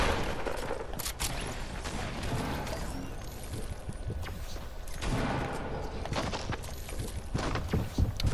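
Gunfire in a battle royale video game: scattered, sharp shots and a few bursts over a noisy game background, at moderate loudness and without speech.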